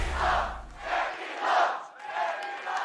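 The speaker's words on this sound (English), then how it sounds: "it's great to hear that the fans are cheering" A large arena crowd of fans at a League of Legends Worlds esports match roars in several rising and falling waves, loud and sustained, with no clear speech.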